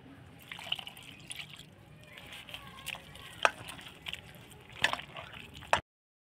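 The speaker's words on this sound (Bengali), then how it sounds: "এবার এর মধ্যেই দিয়ে দেবো এক বাটি জল।" A bowl of water poured into a mixture of semolina and raw potato gives soft splashing and scattered drips, with a few sharp clicks and taps from the bowl over a low background hum.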